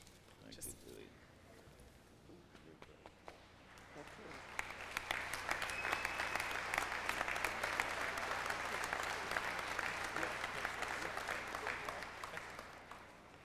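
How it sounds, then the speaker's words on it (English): Conference delegates in a CUPE union convention hall break into applause, starting with faint sounds and a voice, then swelling after a few seconds into dense, sustained clapping from a large crowd that holds steady to the end. "the applause from the delegates really says it all"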